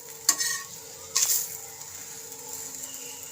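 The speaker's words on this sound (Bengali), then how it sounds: "এটা আস্তে মানে একদম সিমে ভাজতে হবে" A greens-stuffed paratha frying in ghee in a pan on a very low flame gives a soft, steady sizzle. Two brief, sharper bursts of frying near the start sound as the bread is pressed or moved.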